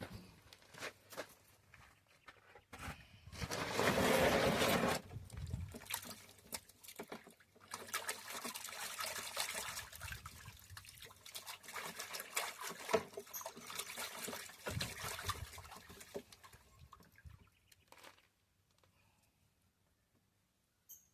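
Water runs and trickles through a gold sluice carpet in a steady splashing flow that surges loudly early on, then settles and fades out near the end.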